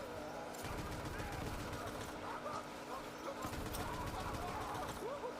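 Rapid SMG bursts crackle from a video game, several quick volleys in a row at moderate loudness against a busy background.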